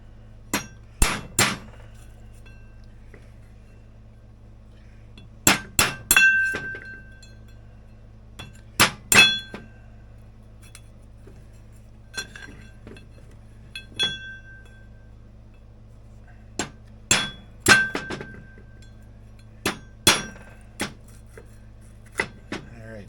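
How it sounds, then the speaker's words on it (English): Hammer beating on a vintage Polaris snowmobile P85 drive clutch bushing, sharp metallic blows in irregular bursts of two to four strikes with pauses between, close and loud over a steady low hum. "All right, back to beating on this bushing."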